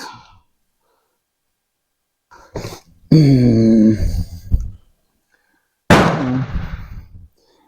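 M4 rifle fired at a silhouette target, two sharp loud cracks a few seconds apart with echoing decay, surrounded by silence.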